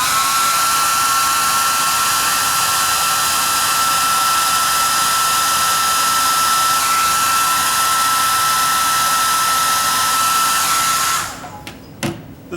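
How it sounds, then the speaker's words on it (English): A hair dryer blows steadily over fresh paint, a loud, even, close whine that holds for about eleven seconds before being switched off, followed by a few faint knocks. "let me dry those with the dryer."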